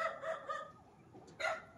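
Chickens on a rural house-and-lot property cluck and call in short, nearby bursts, a few quick notes at the start and another louder call near the end, with no talk over them.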